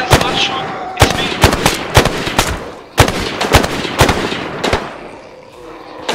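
Gunfire rings out in a video game battle at a helipad entrance, with loud sharp shots in irregular single cracks and short bursts close by, and voices shouting between them.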